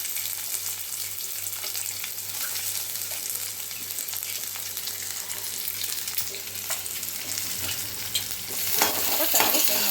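Onions frying in hot oil for an egg chicken curry give off a steady, dense sizzle with faint stirring scrapes, continuous and close, without any voices.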